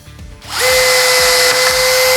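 A Stanley cordless drill set to high torque drives into soft wood, spinning up sharply and holding a loud, steady whine close by after a short quiet start.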